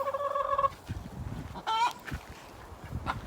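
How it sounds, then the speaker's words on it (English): A chicken gives a short harmonic call, then a second warbling squawk a moment later, heard at moderate distance over background rustling and low noises. "I'm pretty sure that is known as the chicken song."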